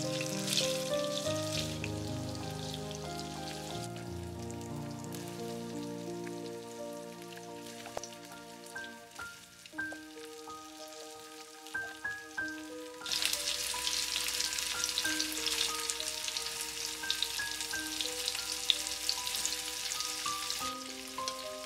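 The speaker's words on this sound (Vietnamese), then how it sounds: "Bây giờ mình sẽ đi cắt khúc và chiên qua với dầu." Cut pieces of softened tofu skin fry in hot oil, giving a continuous crackling sizzle under background music, with the sputtering growing louder and denser in the second half.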